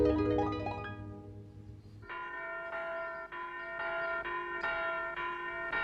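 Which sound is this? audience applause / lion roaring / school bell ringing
school bell ringing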